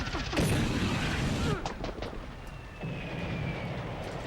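Mortar fire in the video game Army Men: Land, Sea, Air, with dense booming blasts and rumbling explosions layered with gunfire, loud and close at first and then continuing at a steady level with a brief whistling tone.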